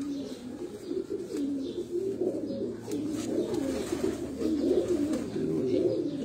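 Pigeons coo continuously in a low, throaty warble, several birds overlapping close by on a rooftop with a faint background hum.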